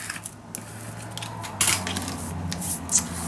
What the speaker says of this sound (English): But let me first cut this one.